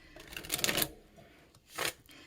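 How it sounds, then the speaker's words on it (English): Tarot cards being shuffled up close, two quick riffling bursts of crisp paper flutter separated by a short pause, soft and alone. "I'm gonna go ahead and talk while I shuffle your tarot cards"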